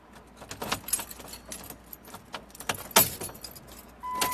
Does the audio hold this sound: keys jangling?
yes